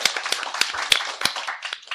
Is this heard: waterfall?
no